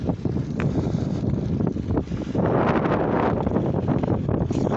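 Gale force winds roar across Brookwood Cemetery, a loud, steady broadband rush with heavy buffeting against the microphone that swells stronger partway through and never lets up.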